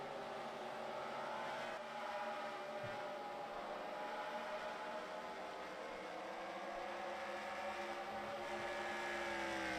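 Race cars running laps on an oval track in a simulated Busch series race, a dense, steady engine drone with overlapping whining tones rising and falling as cars pass, far and fairly faint.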